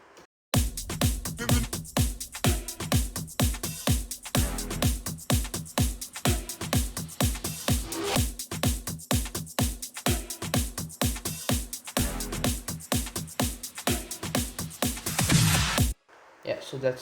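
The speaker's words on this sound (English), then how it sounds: "And the drums and the effects all together sound like this." Bass house drums and effects play together as a fast, punchy four-on-the-floor groove with crisp hits, layered sweeps and a dense, loud mix that keeps a steady rhythm for about fifteen seconds before cutting off.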